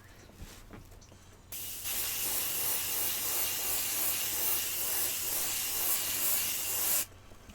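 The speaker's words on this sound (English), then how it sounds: "I am almost done with hairspraying this" Hairspray hisses from an aerosol can in one long continuous burst onto a cosplay wig during repair. The close, loud spray starts after a moment of quieter handling and cuts off abruptly near the end.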